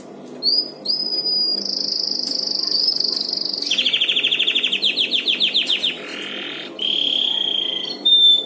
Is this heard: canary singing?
yes